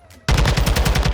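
SCAR rifle firing in Modern Warfare 2, a loud, close burst of rapid automatic shots in an even, fast rhythm that starts abruptly and continues without pause, with no talk over it.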